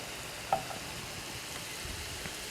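Dill pickle spears and other ingredients sizzle and fry steadily in a pan on the stove, a soft continuous crackle with one brief clink near the start.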